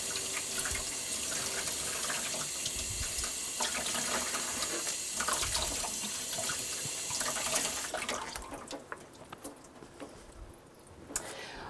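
Water runs steadily from a tap, rinsing acid off an aquatint etching plate in a sink, a constant splashing hiss that breaks into irregular spatters and drips near the end.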